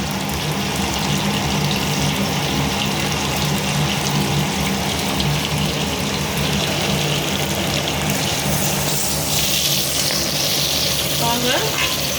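Crushed onions fry in hot oil for chicken biryani, a steady, dense sizzle running loud and close throughout, with brief stirring scrapes near the end and no talk.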